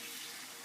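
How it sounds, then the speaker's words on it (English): Water pours into a bowl of olive bread dough ingredients as a brief, steady splashing gush. "then I'm going to add a cup and a half of water"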